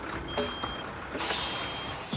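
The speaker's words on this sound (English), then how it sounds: "No air causes the brakes to lock on." Air brakes on a Peterbilt truck locking on after losing air on a deserted dirt road, a broad pneumatic hiss swelling over a low idle, with clicks and a faint steady warning tone.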